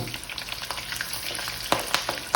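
Shrimp frying in hot cooking oil gives a steady, close, soft sizzle with a few sharper crackles and pops near the end, and no voices over it.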